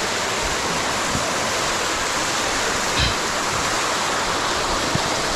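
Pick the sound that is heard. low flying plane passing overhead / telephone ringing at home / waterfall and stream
waterfall and stream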